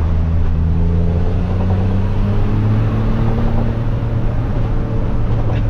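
A truck engine droning steadily while driving, a low continuous rumble with engine tones that drift up and down slightly across the stretch, no talk over it.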